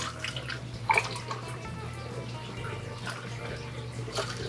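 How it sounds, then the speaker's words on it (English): Liquid is poured into a Barbados Punch cocktail, a steady close trickle over a low electrical hum, with a brief clink of glass near the start. "we're gonna go ahead and pour this in on top of that"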